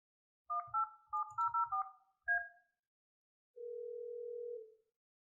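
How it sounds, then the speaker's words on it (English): A desk phone being dialed: a quick run of keypad tones in uneven bursts, then a pause and a steady, faint dial tone holding for about a second. "we're going to make another phone call here."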